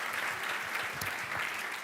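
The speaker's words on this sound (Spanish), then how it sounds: "un aplauso muy grande por haber participado" A dense, steady burst of audience applause for María at a talk on humanity and technology, many hands clapping together close by and at even strength throughout, with no other sounds breaking through.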